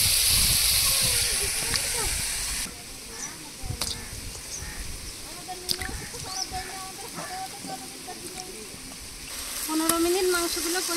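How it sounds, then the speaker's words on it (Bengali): Duck meat sizzles and hisses as it is sautéed in a pan, a strong frying hiss with occasional scrapes of stirring, while crows caw in the background. "মাংসগুলো কষিয়ে নিচ্ছি,"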